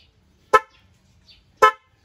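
Two short, loud beeps from a stock car horn about a second apart, close by, with near silence between them.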